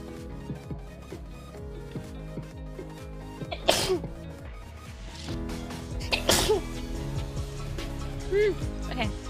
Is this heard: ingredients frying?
no